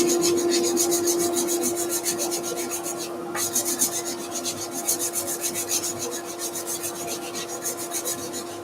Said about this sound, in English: Starting off with rotary, and then we'll hand sand.